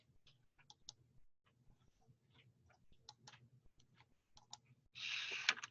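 Scattered, quiet clicks from typing on a computer keyboard come up close in short irregular bursts, ending in a denser flurry of keystrokes.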